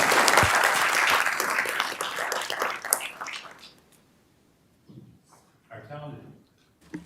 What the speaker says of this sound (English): Please put a round of applause for these students and these schools.